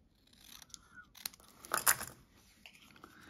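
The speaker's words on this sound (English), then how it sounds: "I still want to cut the tiniest bit off this bottom edge." Scissors snip a paper card in a few close, quiet crisp cuts, the loudest near the middle, against an otherwise hushed background.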